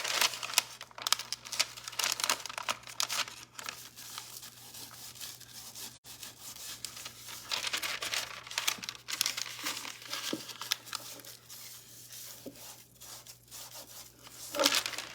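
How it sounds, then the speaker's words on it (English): Saran wrap rubbed over 18-pound decoupage tissue paper laid on a cabin nightstand, a continuous close crinkling and rubbing in uneven strokes, fairly quiet with no talking. "I lay the paper back down again and just take my Saran wrap and I start in the middle"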